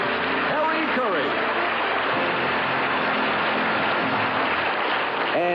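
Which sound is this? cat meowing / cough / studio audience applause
studio audience applause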